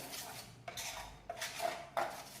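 Metal utensils clink and scrape against a dish while green chutney is mixed for mutton tikka, a few soft, distinct knocks spaced about a second apart, quiet and close.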